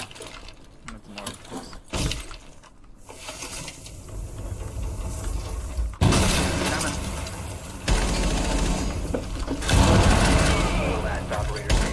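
AK rifle gunfire in the video game Rainbow Six Siege, loud, dense and continuous, with sharp bursts and clattering mechanical rattle that grows heavier toward the end while players talk over it.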